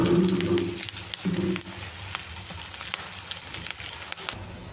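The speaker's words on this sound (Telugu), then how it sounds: "ఆనియన్స్ కూడా బాగా ఆయిల్లో అయితే వేసి ఉడికించేసుకున్నాను దీంట్లోకి కరివేపాకు కూడా వేసేసుకుంటున్నానండి" Onions cooking in hot oil as curry leaves are tossed in for dum biryani, with a steady close sizzle and crackle, a few sharper pops and spoon scrapes, and a brief low clatter at the start.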